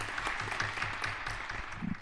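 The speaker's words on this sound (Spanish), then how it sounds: "Le damos un aplauso." Audience at a medical lecture on vascular disease applauds a speaker, a faint, steady wash of clapping heard at a distance.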